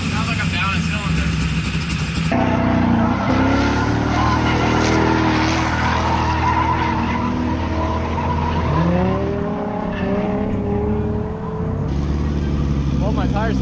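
A drift car's engine runs rough and sounds down a cylinder, with loud continuous revving, shifting pitch and tire squeal throughout, and a voice speaks briefly over it.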